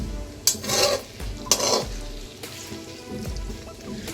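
Onions in hot oil for aloo gobi sizzle softly in a pan while a utensil stirs and scrapes in a few bursts, with no talking.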